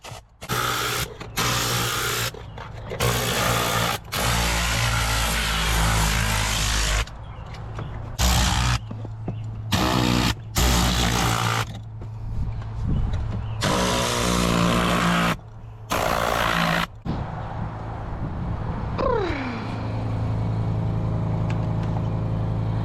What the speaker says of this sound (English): I've gotten questions about this air gun tool in some of my previous videos